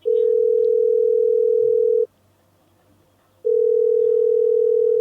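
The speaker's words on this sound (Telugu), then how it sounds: "రింగ్ అవుతోంది" An outgoing phone call ring-back tone: a loud, steady electronic tone lasting about two seconds, a short silent gap, then the tone starting again, with no talking.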